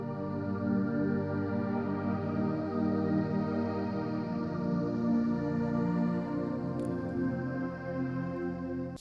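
Sustained synth pad from the Nexus plugin in FL Studio, holding thick layered harmonic chords that swell slightly and continue steadily without a break, with no voices.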